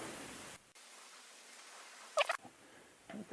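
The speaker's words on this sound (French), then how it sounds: "J'utilise mes gros ciseaux." Large scissors cutting a plastic wind deflector for a Renault Twizy at a 45-degree angle, giving a brief crisp snip or two in an otherwise quiet space, close and fairly soft.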